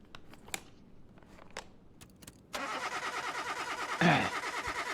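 A 1979 car's engine cranking during a compression test: after a few clicks and taps, the starter turns the engine over in a steady, rhythmic churn, fairly close.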